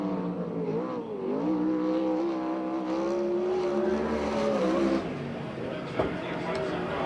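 Sprint car lapping the Perris track in a USAC/CRA race, engine note rising and falling steadily throughout under continuous commentary, with a brief sharp blip near the end.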